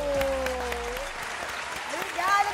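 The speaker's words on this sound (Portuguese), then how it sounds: "Palmas pra ele." Audience applause on a Brazilian favela morning show, scattered clapping mixed with sustained musical tones and voices, moderately loud and busy.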